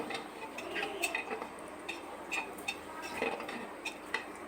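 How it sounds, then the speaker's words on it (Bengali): Large potato pieces fry in hot oil with a little turmeric in a pressure cooker, with a steady faint sizzle under repeated clinks and scrapes of a utensil stirring against the metal pot. "নেড়ে চেড়ে একদম লালচে করে আলুগুলিকে ভেজে তুলে নিচ্ছি"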